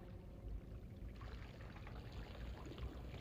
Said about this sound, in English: Only that splashing water.